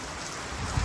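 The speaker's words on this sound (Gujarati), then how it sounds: "વરસાદ ને પવન ને બધું છે." Rain and wind outdoors give a brief, steady wash of broadband hiss, moderately loud, with no voices.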